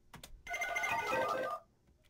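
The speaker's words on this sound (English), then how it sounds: "Kind of that dial tone effect." A short electronic telephone-like tone buzzes for about a second after two quick clicks, then cuts off into quiet.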